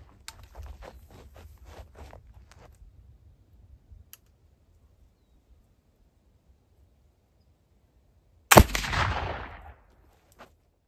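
A single sharp gunshot cracks out from a black powder firearm loaded with remilled Swiss black powder, loud and close, with a brief decaying tail, preceded by quiet clicks and handling noises.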